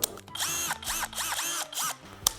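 A cheap 19-euro cordless drill screwdriver whirs in several short bursts, its motor pitch swooping up and down between starts and stops, close and harsh-sounding with a click at the end.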